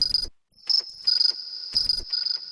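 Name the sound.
microwave beep processed into cricket-like sound in Ableton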